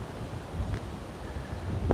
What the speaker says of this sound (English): that wind is really kicking up